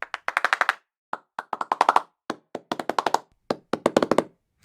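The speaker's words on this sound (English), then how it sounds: "this first group of red keys are all the available single clap articulations" Sampled single hand claps play one after another in quick bursts and short runs, each crisp and dry, close and loud against silence.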